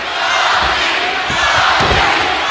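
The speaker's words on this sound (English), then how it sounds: "Now listen to the people. This capacity crowd trying to get behind The Rock." A capacity crowd at a wrestling arena roars and cheers for The Rock, a dense continuous wall of voices with a few louder swells and shouts, loud and sustained.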